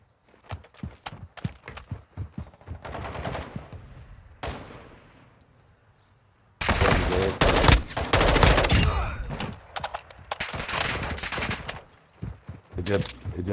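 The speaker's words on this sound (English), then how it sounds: "You are taking effective fire." Bursts of gunfire in Call of Duty MW3 DMZ, a run of sharp shots early on, then a loud sustained stretch of rapid fire and impacts, with radio-style voices and footsteps mixed in.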